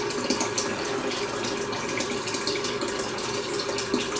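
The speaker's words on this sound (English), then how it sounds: "I'm just going to put some water in there" Tap water runs steadily into a sink in an unbroken close splashing stream, a bit of water poured in with the plug not properly set.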